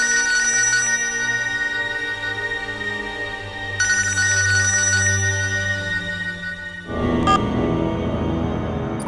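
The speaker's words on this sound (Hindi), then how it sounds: "मैन साहब को कब से फोन लगा रहे हैं, मगर साहब तो फोन उठा ही नहीं रहे।" An unanswered telephone rings on and on with a repeating electronic ringtone pattern, steady and fairly loud, with no voices over it.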